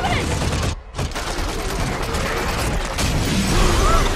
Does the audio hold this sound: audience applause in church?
no